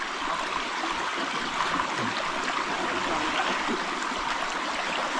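River water flows over big stones in a crayfish-catching stream, a continuous close, broadband rushing and burbling with small splashes, steady in level and without voices.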